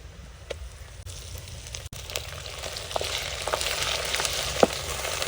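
Ginger and garlic frying in a pan over browned onions while cooking tangar dal, giving a steady, close sizzle with scattered crackles and pops throughout.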